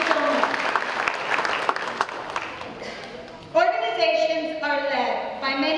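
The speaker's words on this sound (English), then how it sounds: "So we could have a round of applause for Laredo College." Audience applause at a Laredo Chamber school awards ceremony, a broad steady wash of clapping for the first few seconds, fading as a voice begins speaking over a quieter room.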